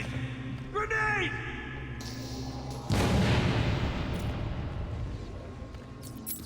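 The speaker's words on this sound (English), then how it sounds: "Grenade!" A grenade bursts in a video game as one sudden loud blast, followed by a long rumbling decay. A voice is heard briefly before the explosion.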